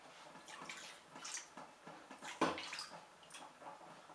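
Griotine cherry liqueur poured into a pot for a white forest entremet: a soft, faint trickling splash with a brief gurgle, close and quiet with no talk.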